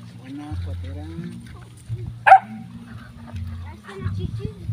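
A dog gives a single sharp bark amid people talking nearby on a farm, with a few faint yips and whimpers scattered around it.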